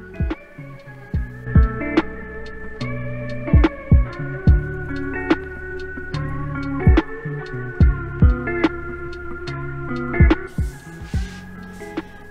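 A Cricut machine runs as it prints sticker sheets, giving a steady motor hum punctuated by repeated sharp mechanical clunks and ticks at irregular intervals, close and clear with no talking.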